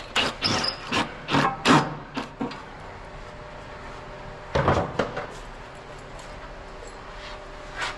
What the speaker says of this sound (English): this is where we take this screw out.